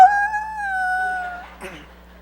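A voice imitates a drawn-out howl at night, a wavering tone held for over a second before breaking off into a short rough exclamation.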